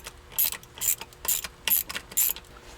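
A hand ratchet clicks close up while removing bolts from the shifter of a C5 Corvette, five quick rhythmic bursts of ratcheting with short pauses between strokes.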